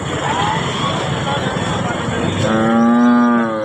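A single loud, drawn-out cow moo close by at a livestock market in Husnabad, rising out of steady background noise and murmuring after a few seconds.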